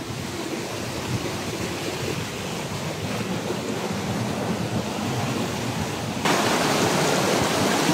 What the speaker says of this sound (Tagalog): maririnig nyo yung lagaslas ng tubig dito sa loob